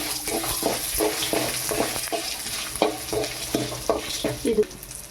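Dried red chillies frying in hot oil for kara chutney, a close, busy sizzle broken by rhythmic stirring scrapes about every half second, with no one speaking.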